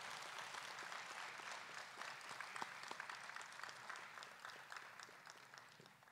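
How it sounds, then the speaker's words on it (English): Audience at a U.S. Army ROTC commissioning ceremony clapping in steady, sustained applause from a large crowd, even in level throughout and heard from a distance, with no talk over it. "please give him a round of applause for the family of Colonel Brumsey"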